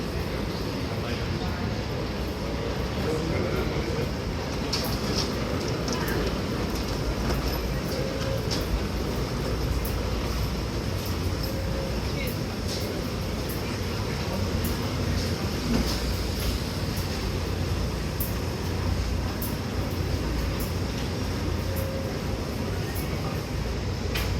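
AirTrain running on rails between JFK airport and Manhattan, a steady continuous rumble throughout with faint voices in the carriage.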